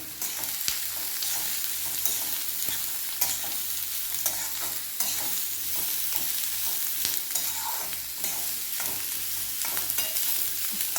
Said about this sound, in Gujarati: એને આપણે 5 થી 7 મિનિટ ગેસની ફ્લેમ થોડી ફાસ્ટ કરી દેવાની અને શેકવાનું છે.